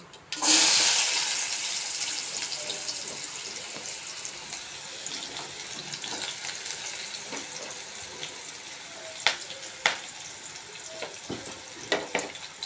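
Chopped onion hitting hot oil seasoned with asafoetida, a sudden loud hiss that settles into a steady sizzle, with occasional clinks of a spoon stirring in the pan.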